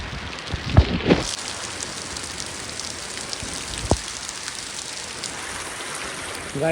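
Rain falls steadily as an even hiss across the scene, with a few brief knocks and clatters near the start and one sharp tap partway through, and no voices.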